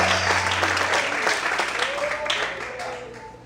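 A church congregation claps in praise during a service, a lively burst of applause fairly close, with voices calling out and murmuring underneath before the sound eases slightly.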